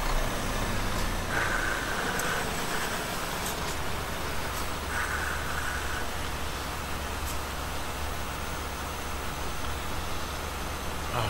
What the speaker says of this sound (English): My truck does not sound good.